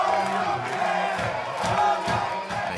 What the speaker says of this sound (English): the crowd's just kind of cheering like, woo!